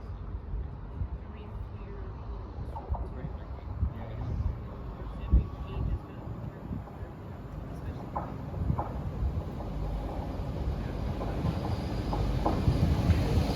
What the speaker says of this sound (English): Arriving in now is the 1859 LNER service from Aberdeen to Leeds